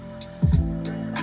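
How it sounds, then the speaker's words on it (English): Ambient chorus layer from a songwriter's track, with a keys loop, airy textures and a drum loop: soft repeating hits under a sustained pad, moderately loud and steady, with no voices. "in the chorus some like ambient sounds and a kind of drum loop"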